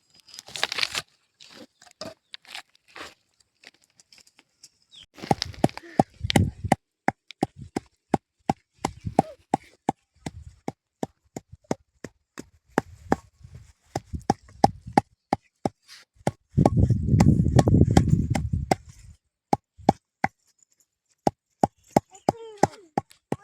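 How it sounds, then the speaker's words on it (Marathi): Onion chopped very finely with a knife on a board at an outdoor farm cookout, a long run of rapid sharp taps in quick bursts with brief pauses and a rustly, crunchy stretch midway. "बारीक कांदा कापायचा, फुलणी आहे ना, एकदम बारीक कांदा कापायचा."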